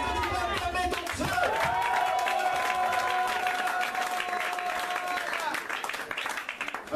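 Congregation in a church in Gabon applauding and cheering at a Sunday service, a dense, steady wash of clapping and voices filling the room, with a sustained sung or shouted tone running through the middle.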